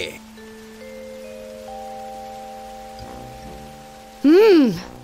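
Soft rain patters steadily in the background beneath long sustained tones, ending with a sudden loud swooping sound.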